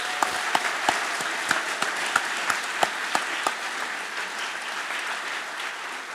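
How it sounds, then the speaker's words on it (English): Graduation audience at a medical school ceremony applauds for parents and partners, a steady wash of clapping with sharp individual claps standing out, sustained evenly and then thinning slightly toward the end. "So I think a round of applause for all of them."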